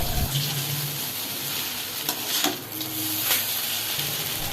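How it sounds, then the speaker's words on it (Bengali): Drained chow mein noodles sizzle in a hot pan while being stirred and tossed, a continuous frying hiss with a few scraping clatters of the utensil, close and without voices. "সেই চাউমিনটা দিয়ে ভালো মতো নাড়াচাড়া করে নিচ্ছি"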